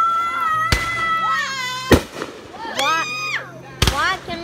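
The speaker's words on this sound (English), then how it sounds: "We want to stay away from the fireworks." Fourth of July fireworks go off nearby as four sharp, loud bangs spaced about a second apart, while children's voices talk and chatter between the blasts.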